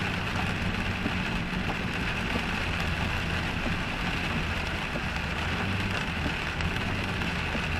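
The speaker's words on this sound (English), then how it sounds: "I'm enjoying the rain. We need the rain." Steady rain falls in a dense, even hiss, with a low rumbling hum underneath throughout.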